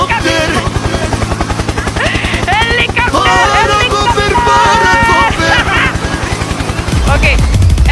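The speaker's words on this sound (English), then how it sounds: "Helicopter, helicopter!" A helicopter passes close overhead at a beach in the wild, its rotor thumping in a loud rapid pulse throughout, while people shout and talk excitedly over it.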